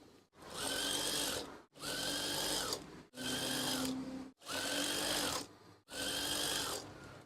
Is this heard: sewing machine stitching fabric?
yes